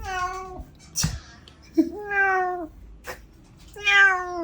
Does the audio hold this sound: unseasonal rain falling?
no